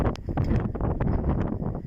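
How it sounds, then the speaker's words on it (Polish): Strong wind buffets the microphone in a steady, loud rumbling roar with gusty surges throughout, no other sounds standing out. "Mocny wiatr."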